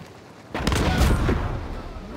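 Shotgun fire in a video game fight bursts loudly after a short quiet, a sharp blast followed by a booming, ringing tail.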